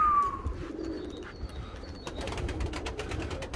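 Pigeons from a long-kept breeding line coo softly in a quiet outdoor spot, a few low, rolling calls with light clicks and rustles toward the end.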